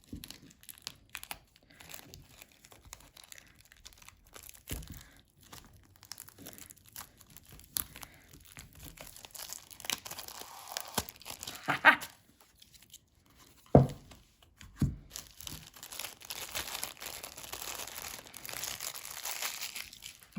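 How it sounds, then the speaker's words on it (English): Crinkly plastic wrapping being pulled off a Mountain Dream tarot deck, with irregular close crackles and a few sharper tearing bursts, fairly soft overall and heard without talk. "Sorry for the plastic rustling."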